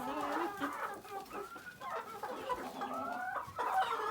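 Hens cluck steadily in a village coop where they lay eggs on the floor, a soft, close chorus of overlapping clucks and murmurs with no talk.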